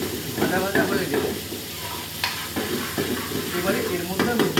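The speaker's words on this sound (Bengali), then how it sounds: "আদা বাটাটা একটুখানি ভাজা ভাজা হয়ে গেলে" Ginger paste fries in oil with a close, bubbling sizzle and repeated stirring scrapes at an uneven pace, and a faint voice can be heard underneath.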